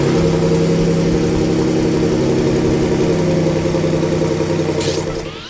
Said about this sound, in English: This is what a stock Raptor sounds like.